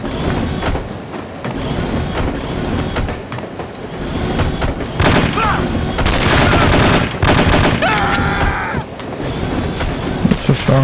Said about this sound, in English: Let's use a machine gun.